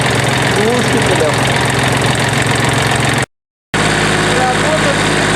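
A QC385 diesel engine fitted with a muffler idles at 500 rpm, a loud steady low knocking chug with even rhythm, interrupted by a brief silent gap before running on.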